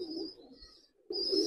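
Pakistani pigeons at a pigeon farm coo in soft, low rolling calls, one bout fading into a brief lull before another close, louder cooing resumes.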